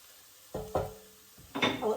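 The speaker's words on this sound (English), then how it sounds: "Onions a little stir, they're softening nicely." Onions softening in a pot for carrot and coriander soup are stirred with a utensil, giving a few soft scrapes and knocks against the pot with light sizzling between them, close and fairly quiet.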